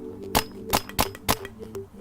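A Dye DAM paintball marker fires .68 caliber paintballs in four sharp, evenly spaced pops, each one loud and close, with faint mechanical noise between shots.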